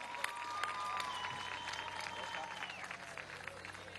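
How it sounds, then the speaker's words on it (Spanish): Audience applause at a Venezuelan presidential event with educational missions in 23 de Enero, a dense, sustained clapping from a large crowd heard somewhat distant and fairly quiet throughout. "Vamos a darle un fuerte aplauso a la compañera Nancy Arnal"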